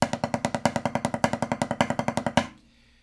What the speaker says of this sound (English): What replaces that particular grouping of 6 notes, a lot of us know, is the paradiddle diddle, which looks and sounds like this.